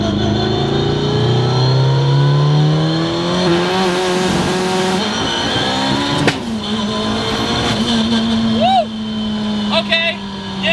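A 900-horsepower Mitsubishi Evo with a 4G63 four-cylinder accelerates hard from a rolling launch. The loud, close engine climbs steadily in pitch through the gears, with short breaks at the shifts, and someone talks over it.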